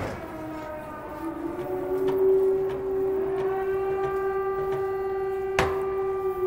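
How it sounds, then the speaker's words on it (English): Long, steady wailing flood sirens in the video game Stray hold one pitch over a low rumbling background, with a sharp click partway through. "Heard the flood sirens."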